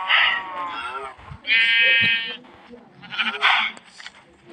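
Several loud, close sheep bleats from a video game, wavering and nasal, arriving in separate bursts with short pauses between them.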